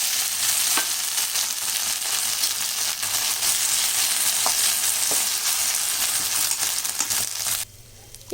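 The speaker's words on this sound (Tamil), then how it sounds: "இப்போ இது நல்லா இந்த பச்சை வாசனை போகிற வரைக்கும் கொஞ்சம் லைட்டாக இப்படி வதக்கிடலாம்" A ground paste of toor dal, coconut and green chilli fries with onions in a pan, a steady loud sizzle broken by occasional spoon scrapes and taps, cutting off abruptly near the end.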